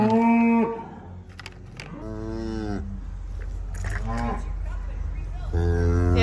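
A tame cow on a farm during calf tagging moos several times in loud, drawn-out calls, close by, with short pauses between lowings over a steady low rumble.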